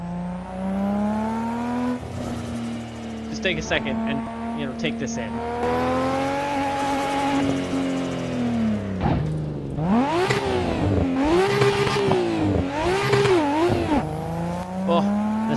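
Toyota Supra time attack car in the racing game Assetto Corsa, its engine revving loud and close, pitch swinging up and down in repeated surges, with someone talking over it throughout.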